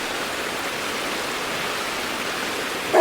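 A mountain creek rushes through the Lauterbrunnen Valley in Switzerland, a steady broadband wash of water close by, loud and unbroken with no voices.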